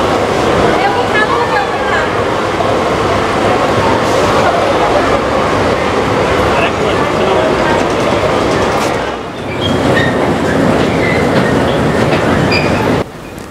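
A children's train ride at the Wonderland amusement park in Shyamoli, Dhaka, rolls past with a loud, continuous rumble and rhythmic wheel clatter, up close, with voices mixed underneath.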